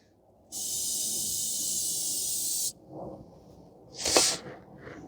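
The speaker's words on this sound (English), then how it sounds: "You can spray some brake cleaner if you want." A steady aerosol spray of brake cleaner on rear brake lines of a 2012 Toyota Corolla 1.8 hisses loudly for about two seconds, then stops, followed by a few faint rustles and a short burst of spray.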